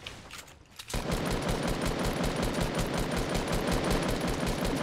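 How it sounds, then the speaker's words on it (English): Sustained automatic gunfire in the video game Fortnite, a dense rapid burst of shots running loud and continuous after a brief quieter opening. "I'm shooting him"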